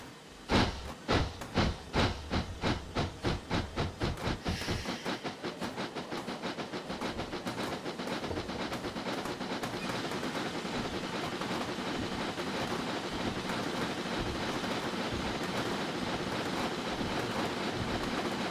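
A Talyllyn steam locomotive pulling a Talyllyn train in a train simulator game chuffs in quick, regular beats that speed up and blur within seconds into a continuous steady hiss and rumble of steam, with no talking.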